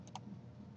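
Spacebar pressed on a computer keyboard: two quick, light key clicks near the start and another near the end, quiet and close, over a low background hum with no talking.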